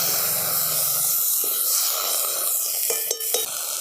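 Whole spices fry in a pan with a splash of water for a fish curry, a close, steady hissing sizzle with light stirring clinks and a few sharper bubbling pops near the end, no voices.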